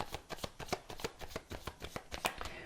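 Tarot cards being shuffled by hand, a close, dry run of quick riffling bursts and soft slaps repeating in an uneven rhythm, with no talking.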